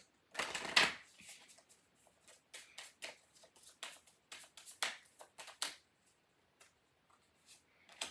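Rune cards being shuffled by hand, a quick burst of riffling followed by a run of light crisp taps and flicks, close and fairly quiet, with no voices.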